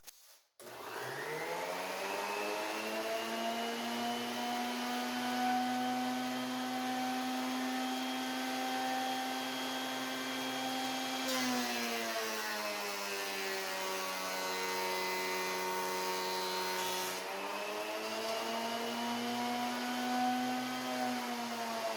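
A thickness planer runs with a loud steady whine, then its pitch dips and roughens for several seconds as a board of wood feeds through before returning to the free-running drone, close with no voices.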